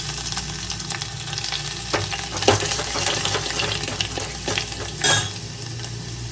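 Crushed garlic sizzles in oil for lemon rasam, a steady close frying hiss broken by spoon stirs and a few light clatters against the pan.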